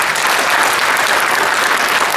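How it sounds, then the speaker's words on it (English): A crowd applauds loudly and steadily at a China Day celebration in Detroit, dense clapping filling the whole moment without a break. "make it one more time round of applause for this celebration of a China Day in Detroit"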